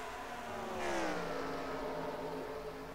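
Race car engines in a NASCAR video game at Bristol, a continuous loud droning roar with rising pitch as a car passes close and swells briefly near the middle, no voices.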